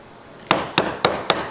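Four evenly spaced, sharp mallet strikes drive a chisel into wood end grain, each hit a crisp, close knock with a short decay.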